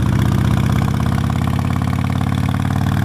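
A Harley-Davidson Nightster engine rumbles low and steady at slow speed through a tight corner, with an even, pulsing throb and no voices.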